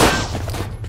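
Pistol fire in the zombie shooter Zompiercer, a loud burst of shots packed closely together up front, then trailing rumble and game noise, with no talking over it.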